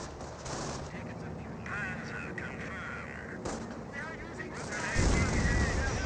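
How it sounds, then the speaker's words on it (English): Sniper rifle shots ring out amid a World War II battle in Company of Heroes, with bursts of distant and mid-range gunfire layered over constant battlefield din and a voice talking throughout. "Snipers firing away against the hits on the grenadiers."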